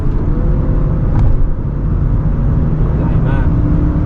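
A 2015 Lexus LS 460 F Sport sedan's engine hums steadily from inside the cabin, low and constant, with a faint rising tone as it accelerates.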